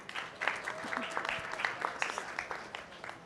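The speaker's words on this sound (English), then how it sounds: "Another round of applause." Audience at the parallel18 Ventures Summit gives a startup pitch a round of applause; crisp, busy clapping fills the room while a voice talks over it.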